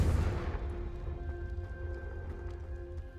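A Confringo fire spell bursts in the Hogwarts Legacy video game, a heavy explosive boom up front that rolls off into a long rumbling, crackling decay with a faint ringing tone.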